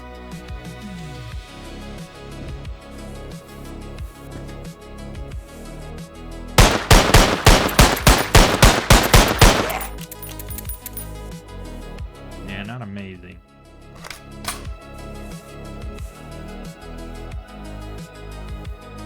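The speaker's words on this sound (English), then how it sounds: "Guns make noise, baby." A rapid burst of loud, repeated gunfire rattles out over busy game sound in Cataclysm: Dark Days Ahead, followed by a few scattered single shots.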